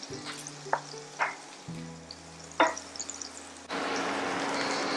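Butter and olive oil in a pan over a lowered flame, starting with faint crackles and brief pops, then rising into a steady, loud close sizzle, with no talking.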